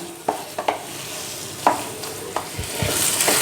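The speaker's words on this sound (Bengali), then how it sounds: "গ্যাসের ফ্লেমটাকে লোতে করে এটাকে নাড়াচাড়া করে কষিয়ে নিতে হবে" Chicken keema filling stirred over a low flame in a kadai, with a steady sizzle and several distinct scraping strokes of the spatula against the pan, close and fairly loud, with no talking.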